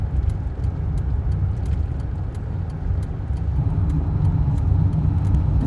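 A minivan campervan drives along the Alaska Highway in fog, its steady engine and road rumble loud and continuous from the cabin, with faint regular ticking over the drone.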